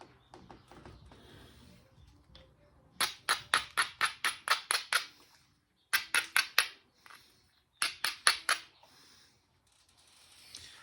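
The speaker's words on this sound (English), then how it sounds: "I'm gonna try to strike it here on this low spot. I'll run a flake across there" Sharp, ringing stone strikes come in quick bursts while a preform is flintknapped, several rapid rows of clicking taps separated by brief pauses, close and crisp against a quiet background.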